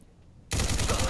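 Automatic gunfire in Fallout 4 bursts in suddenly after a quiet half second, a loud, dense rapid rattle of shots that runs to the end without pause.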